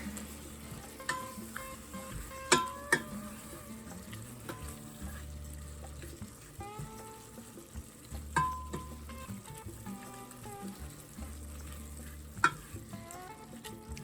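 Ground beef browns in a pan for chili with a soft, continuous sizzle, while a utensil stirs and pokes at it, giving intermittent scrapes and sharp clinks.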